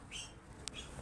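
Small birds at a window in the morning give a few short, faint chirps, with quiet room tone around them and no voices.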